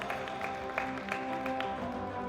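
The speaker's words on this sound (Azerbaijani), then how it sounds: "alqışlar" Brief applause rings out at the Baku Open 2025 chess tournament closing ceremony as winners are honoured. A room of people claps at moderate volume in a steady patter for about two seconds.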